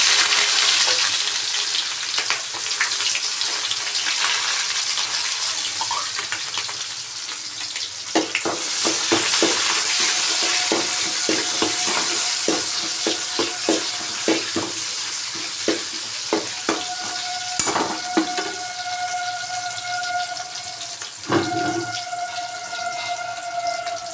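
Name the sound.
onions frying in hot oil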